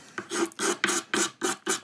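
Steel scraper drawn repeatedly along a wooden viola neck and fingerboard to clear file marks, six close, even rasping strokes with short gaps between them.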